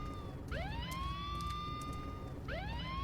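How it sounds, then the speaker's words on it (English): Police patrol car sirens wail in the video game Silent Hill Downpour, two rising sweeps a couple of seconds apart, each holding a long steady tone; they sound fairly distant over a low rumbling background, with no talk. "what the patrol car does is it actually spawns a trio of sirens behind us"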